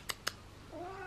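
A cat gives a single short, rising meow after two quick soft clicks, fairly close and quiet indoors.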